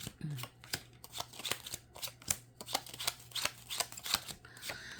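Tarot cards are shuffled repeatedly at close range, giving a steady run of crisp riffling snaps and slaps with no talking.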